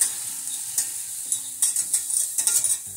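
Flour being stirred into melted butter in a pan over medium heat, with a steady bright sizzle and repeated scraping strokes of a utensil, close and with no talking.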